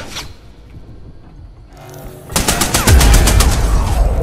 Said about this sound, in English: Oh shit, I'm being shot at.